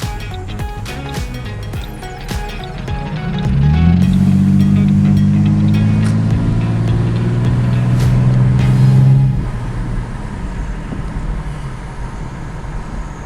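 An old van's engine revs up and holds a loud, rough drone for about five seconds, then drops back to a lumpy idle among clatter and background noise.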